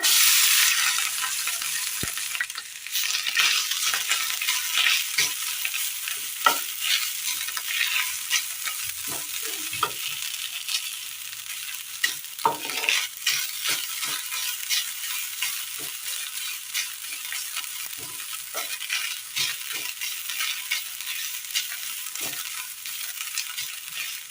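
Garlic and grated coconut fry steadily in hot oil in a pan for a Kerala dish, a continuous bright sizzle with scattered crackles and occasional stirring scrapes, close and alone with no talking.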